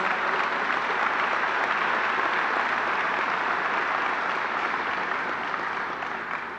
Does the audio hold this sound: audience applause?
yes